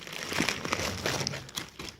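A plastic bag crinkling as it is opened, with close, irregular rustles and crackles throughout.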